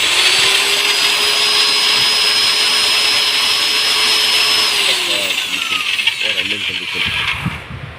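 A serviced Ken 6816 16mm heavy duty drilling machine runs steadily with a loud, continuous motor whine, then winds down near the end, with brief talk as it slows.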